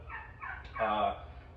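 Turkeys gobbling at a turkey processing site, a couple of short warbling gobbles close by over a low background hum.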